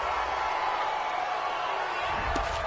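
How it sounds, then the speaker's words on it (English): A home stadium crowd in a PS4 football game roars in approval of a referee's call, a loud, sustained, even wash of cheering with a brief sharp thump near the end. "This home crowd, they're happy with that call."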